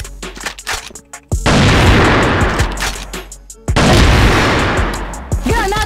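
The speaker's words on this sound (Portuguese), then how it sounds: "Granada de fumaça!" A smoke grenade in a video game goes off with sharp loud bursts, then gives long, dense rushing hisses that cut in abruptly, with scattered gunfire-like cracks around them, all close and loud.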